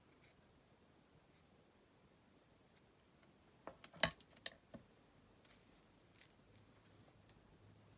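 A few faint, close snips of scissors cut paper for a junk journal envelope, clustered briefly midway through an otherwise quiet stretch.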